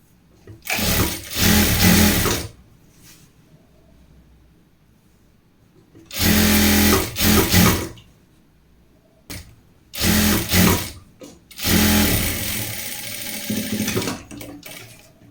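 Sewing machine stitching a folded fabric hem in several loud motor bursts of about one to two seconds each, separated by quiet pauses as the cloth is repositioned.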